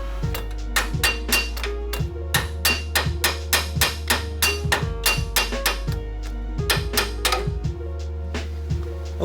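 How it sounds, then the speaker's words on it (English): A hammer knocks a bolt out of a Ford Explorer during a wheel bearing replacement, with a rapid series of sharp metallic strikes in uneven bursts. The ringing hits are close and loud over a low steady hum. "Now we got to take a hammer,"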